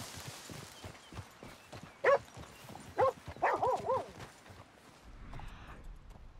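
Dog barking in the Red Dead Redemption 2 video game, a few sharp barks spaced over a low steady background, with faint talk and hoof-like clopping mixed in.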